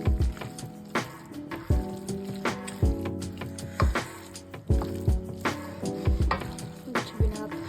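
Pasta carbonara is stirred with raw egg off the heat, giving wet, squishy slaps and sticky clicks in an uneven rhythm, close and moderately quiet, with faint tonal background sounds.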